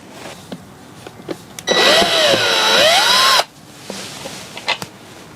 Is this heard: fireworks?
no